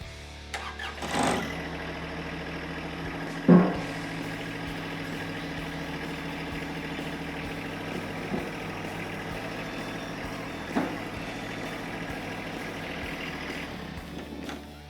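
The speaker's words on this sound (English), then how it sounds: "Now we're going to drop the loader down on the ground so that the park stands will hold the weight of the" A John Deere 120E loader on a 2023 tractor lowers its arms to the ground, giving a steady mid-pitched engine idle with a few short clunks and hydraulic thuds, close and moderately loud.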